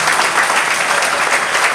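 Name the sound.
applause from church congregation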